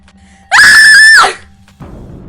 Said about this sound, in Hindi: जोर से चीखती है